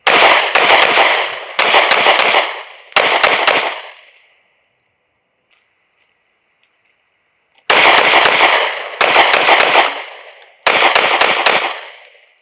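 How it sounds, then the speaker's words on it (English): An H&K VP9SK compact pistol fires in a multiple-target drill: two loud, close volleys of three quick shot clusters each, separated by several seconds of near silence. "The next test that we did is a multiple target engagement to judge how well the gun handles"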